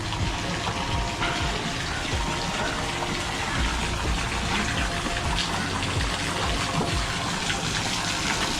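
Water spouts out continuously at a nature stay resort, a loud, steady gushing and splashing that runs unbroken for over eight seconds with no one talking.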